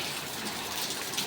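Heavy rain falling outdoors in a downpour, a steady broadband hiss of drops and running water that stays even from start to finish, with no voices.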